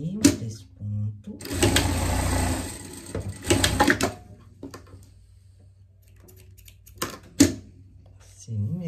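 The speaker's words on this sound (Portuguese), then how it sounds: "Vamos passar uma costura aqui, três pontos." Sewing machine running a three-stitch seam on a pet costume, a dense mechanical whir for a couple of seconds followed by short bursts, with a voice speaking over parts of it.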